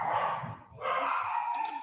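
Dogs bark during a televised Sunday night football game, two sharp yapping bursts separated by a short gap, fairly close and clear.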